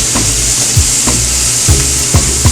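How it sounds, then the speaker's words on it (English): Jackfruit searing in a hot pan, a loud continuous sizzle with a few soft thumps and scrapes as it is moved around. "You get that nice sear on top."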